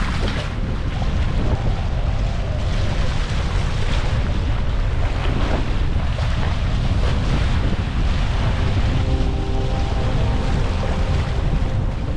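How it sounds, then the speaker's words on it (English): Strong wind buffets the microphone aboard a sailboat at sea while breaking waves rush and wash continuously around the hull, loud and unbroken throughout. "The wind was picking up and the waves were starting to break."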